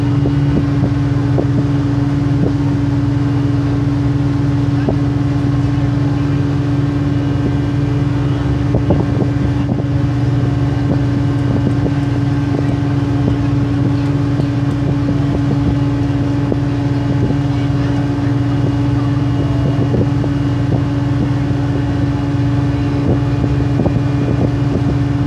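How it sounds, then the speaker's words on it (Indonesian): A long boat's outboard motor drones steadily on the open sea on the way to Bunaken island, a loud continuous engine hum with a strong low tone, wind and water noise, and no talking. "sekarang kita menggunakan long boat vlog"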